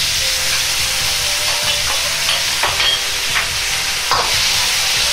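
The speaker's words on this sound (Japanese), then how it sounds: "トマトを崩さないように軽く炒め合わせれば出来上がります。" Beef and tomato being stir-fried with a seasoning sauce in a Chinese-style pan, giving a steady loud sizzle with intermittent stirring scrapes and clanks throughout, no voices.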